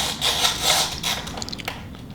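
Valve cover screws coming out of a Mini Cooper engine, a close, faint metallic ratcheting and scraping with small clicks toward the end.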